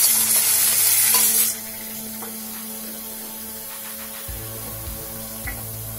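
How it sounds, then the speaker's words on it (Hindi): Spice masala hitting browned onions in a pan of hot oil: a loud hiss at first that settles into a quieter, steady frying sizzle with light stirring scrapes near the end. "ये प्याज हमारे लाल हो गए हैं और अब ये मसाला हम डाल देंगे।"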